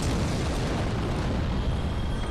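A boulder crashes in Dark Souls with a dense, loud rumbling roar that fills the whole moment without a break and has no voices over it.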